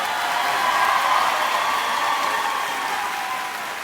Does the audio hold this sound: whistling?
no